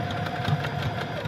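A sewing machine hums steadily while backstitching ribbon onto two layers of tulle for a tutu, with a soft even motor whir and a faint rhythmic needle ticking and no voice.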